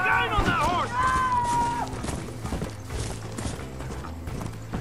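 Horse hooves gallop in a rapid, steady clip-clop in the PS3 game Red Dead Redemption, running continuously under game music and effects, with voices and a cry near the start.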